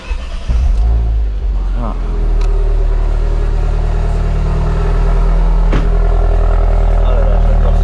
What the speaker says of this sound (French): Hop, déjà on va mettre la mienne à démarrer.